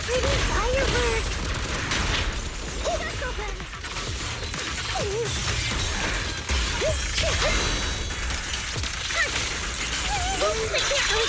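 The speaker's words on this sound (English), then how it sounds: "Look, pretty fireworks!" Fireworks-like explosions in the Zenless Zone Zero video game: dense crashing blasts, whooshes and impacts layered with game music and sound effects, loud throughout, with character voices speaking over them.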